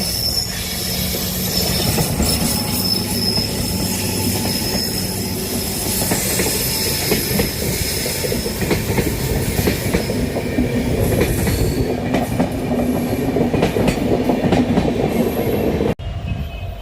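A train rolls past close to a railway station beside a weekly outdoor market, a loud continuous rumble of wheels on track with metallic squeals and clatter lasting throughout before cutting off abruptly.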